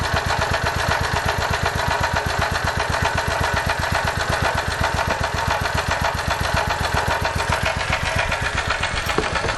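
A small generator engine running on HHO is heard close to its exhaust, putting out a steady, rapid chugging pulse at an even rhythm throughout.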